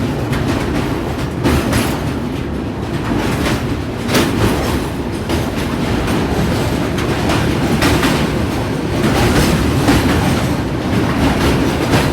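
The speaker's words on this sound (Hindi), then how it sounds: "विशालकाय महानदी को पार कर रही है फिलहाल अपनी ट्रेन" Dhauli Express train crossing the large Mahanadi river on a bridge, a continuous loud rumble with rhythmic clickety-clack of wheels over rail joints and no talking.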